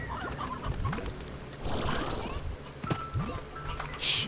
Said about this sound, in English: Run, chickens, run!